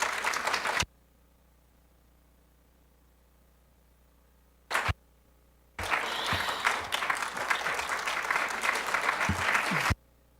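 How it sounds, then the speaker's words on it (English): A city assembly audience in Anchorage applauds. A brief clap burst comes first, then a sustained round of clapping from the crowd in a meeting hall. "it's appropriate to clap."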